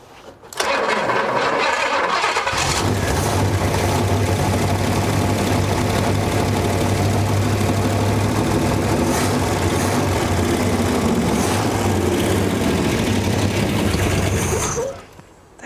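An old, long-abandoned race car engine with a carburetor fires up on fresh fuel, catching after a brief crank and then running loud and steady with a deep low drone for about twelve seconds before cutting out abruptly.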